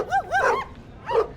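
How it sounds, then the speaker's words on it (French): Dogs barking near an apartment building: three or four sharp barks close together, then a short pause and one more bark, fairly loud and near, with no voices. "parfois on entend vraiment les chiens"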